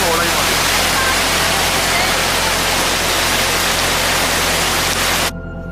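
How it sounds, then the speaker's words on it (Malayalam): A waterfall in Munnar roars loud and steady close by, an unbroken wash of falling water that cuts off abruptly near the end. "വെള്ളം ഒരേ പോയിന്റിലേക്ക് വന്ന് വീണ് അതിന് വലിയൊരു ഗർത്തമായിട്ട് മാറിയിരിക്കുകയാണ്"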